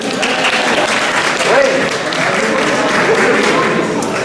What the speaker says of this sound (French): applaudissons les danseurs